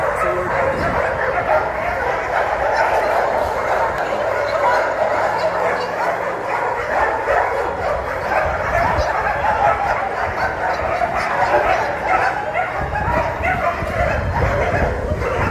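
Several dogs bark and yip continuously at close range over a noisy outdoor background, with a steady, busy chorus throughout.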